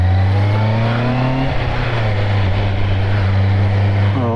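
A Honda CBR650R sport motorcycle engine hums steadily while riding on a daily commute, its tone dipping and rising with gear changes, loud and close throughout.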